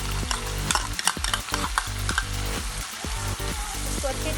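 A spoon stirs yogurt into fish keema masala frying in a pan, giving repeated wet scraping strokes over a steady close sizzle.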